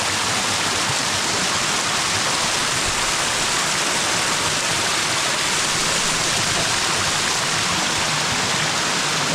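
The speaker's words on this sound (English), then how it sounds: "This is an amazing waterfall." A natural waterfall near a village roars in a steady, dense broadband rush of falling water, loud and close, with no talk over it for the full length.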